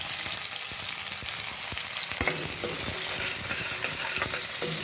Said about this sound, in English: Now in the same oil we will add zira and now we will add onions.